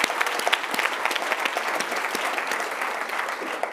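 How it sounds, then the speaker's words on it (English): Steady applause from a conference audience at a plenary session of prize winners, a dense crowd of clapping hands continuing evenly throughout. "One more round of applause."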